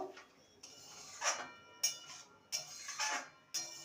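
Soya curry being stirred in a pan after warm water is added, a spoon scraping and tapping against the pan in a loose, uneven rhythm of clinks, close by.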